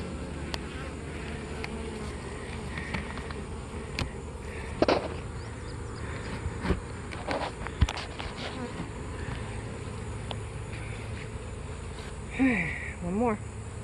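Honey bees buzz steadily around a hive during beekeeping after honey extraction in a dearth, a continuous close drone with occasional louder passes near the microphone; someone speaks briefly.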